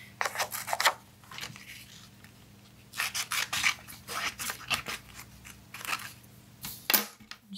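Scissors cut black velvet paper in short bursts of snipping and rasping strokes, close and quiet, with pauses between cuts and no voices.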